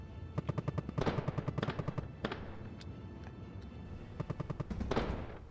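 Rapid automatic gunfire from the video game Conflict Euro comes in several bursts of sharp, quick shots, fairly loud, separated by short pauses, with no talking.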